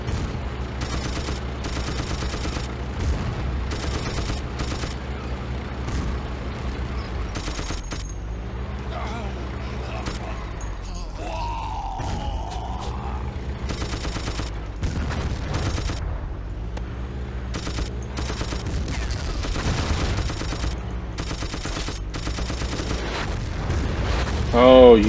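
A mounted machine gun turret in a bunker firing from the Axis side in a Battlefield campaign, a long, steady rapid-fire stream of gunshots with distant explosions mixed in, running continuously until near the end.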